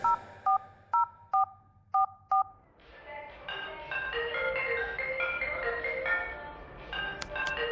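Telephone keypad tones beep six times in quick succession, followed by a ringing or melodic tone pattern on the line, close and clear.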